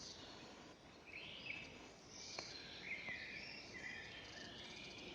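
Faint birdsong drifts through a spring forest, high chirps and warbling phrases coming and going over a soft insect-like hum, distant and quiet, with no voices.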